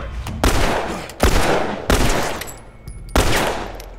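Gunshots fired at enemies in The Last of Us, four loud, booming shots spaced about a second apart, each trailing off in a reverberant tail.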